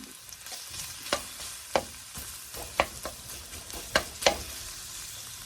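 Ginger, onion and garlic sauté in a hot pan, a steady close sizzle broken by sharp scraping clicks of a spatula stirring at irregular intervals.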